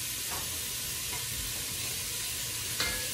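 Andouille sausage sizzles steadily in a hot skillet, a soft continuous crackle with a few brief stirring scrapes, close and unaccompanied by speech.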